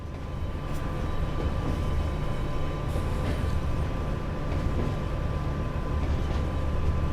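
A DB 114 electric locomotive running in Train Sim World, a steady low rumble and hum of traction motors and wheels on rail, continuous and fairly loud, with no talking.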